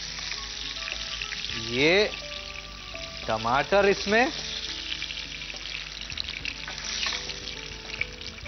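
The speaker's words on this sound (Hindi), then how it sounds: "और अब गरमा गरम तेल में टमाटर" Tomatoes sizzle in hot oil while aloo chole is being cooked: a steady, soft frying hiss runs throughout, with a voice speaking over it.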